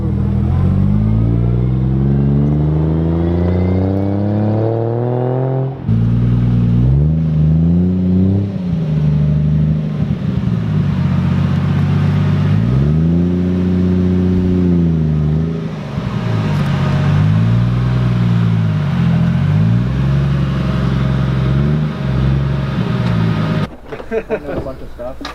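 A car engine revs and drones steadily, its pitch rising and falling through repeated swells as the driver works a heavy manual clutch, loud and close inside the cabin, with people talking over it.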